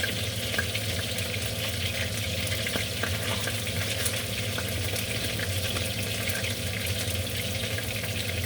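Stroganoff ingredients fry in a hot pan, a steady close sizzle with scattered small pops and crackles throughout.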